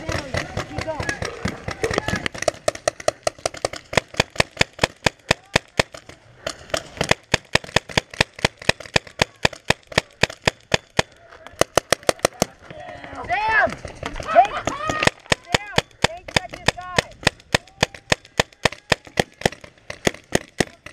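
Paintball markers fire in rapid, sharp pops during an outdoor game, with bursts of quick shots and brief pauses between volleys, close and loud, while players shout and talk over the shooting.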